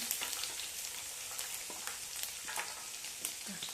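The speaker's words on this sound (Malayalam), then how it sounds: "ഇനി വെളുത്തുള്ളി ചതച്ചത് ഇട്ട് കൊടുക്കാം." Crushed garlic frying in hot oil with mustard seeds and fenugreek for a mango-ginger pickle gives a steady, bright sizzle dotted with sharp crackles and pops, close and alone without speech.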